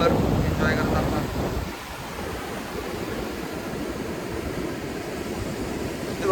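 Ocean waves washing onto the Odisha coast, a broad steady surf wash with wind buffeting the microphone, loudest at the start and then settling into a constant hiss.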